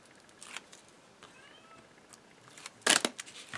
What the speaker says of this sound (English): You might be able to hear my cat meow.